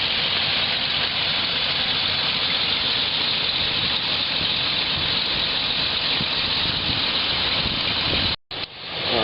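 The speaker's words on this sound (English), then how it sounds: "charging it on our convenient portable generator that we have" A portable 2000W inverter generator charges a battery during a power outage, running steadily and loudly at close range with a constant whining hum for the whole stretch and one brief dropout near the end.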